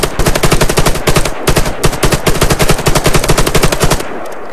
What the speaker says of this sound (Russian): Один из самых мощных автоматов в игре это АК, АК-47 который буквально с нескольких выстрелов валит все мишени